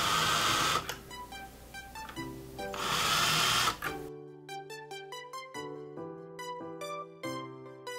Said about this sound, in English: I'm using this self-centering bit right here. Start a first couple of holes till I can get some screws in